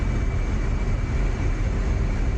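A Navy airplane rolls out after landing in the DCS flight simulator game, a steady, loud, broadband engine roar and rumble filling the whole stretch without letup.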